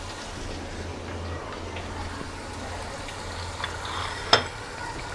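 Spices, sliced tomatoes and green chillies fry and get stirred in a pan, giving a continuous sizzling hiss that ends in one sharp scrape of the spoon near the end.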